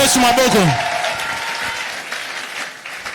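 A church congregation at a Sunday service bursts into applause, a close, loud clapping that starts strong and slowly thins out, with a preacher's voice briefly over the opening.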